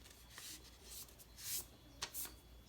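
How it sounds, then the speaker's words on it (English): A sheet of paper is folded in half, with a few soft, close crinkling and rubbing rustles in quick bursts, faint and alone. "I'm going to fold my paper in half"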